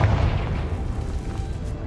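Confringo blasting spell explosion in the video game Hogwarts Legacy: a short, deep, rumbling boom that fades quickly.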